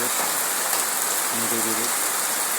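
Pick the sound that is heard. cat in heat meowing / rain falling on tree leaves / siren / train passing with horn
rain falling on tree leaves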